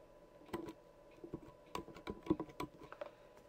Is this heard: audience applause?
no